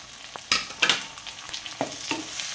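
Chopped tomato being stirred into a frying mutton gravy made without coconut, close sharp spoon scrapes and clatters over a soft, steady sizzle, no talking.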